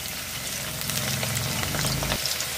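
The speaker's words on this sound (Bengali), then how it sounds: "লো টু মিডিয়াম ফ্লেমে 2 মিনিট নাড়াচাড়া করে ভেজে নিয়েছি" Chillies fry in hot oil for a garlic pickle, a steady close sizzle and bubbling hiss that holds evenly for a couple of seconds before a faint clunk near the end.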